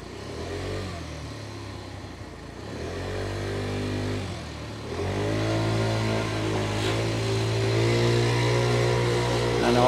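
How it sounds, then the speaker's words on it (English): A motorbike taxi engine revs loudly and close by, then the bike pulls away and rides off, its steady, rising engine drone running throughout with no talk over it. "off we go to the airport on the motorbike taxi of Mr. Boo."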